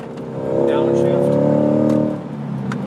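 A C8 Corvette engine on a race track blips and revs through a downshift, the engine note rising, holding for about a second, then dropping away, loud and close inside the car, with someone talking over it.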